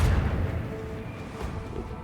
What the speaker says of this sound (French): Bon, alors toi, tu vas te prendre un tir de canon lance.